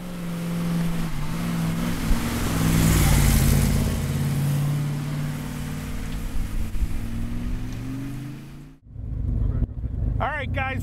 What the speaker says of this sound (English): we're going for a ride in this beautiful Superformance MK3, over 500 horsepower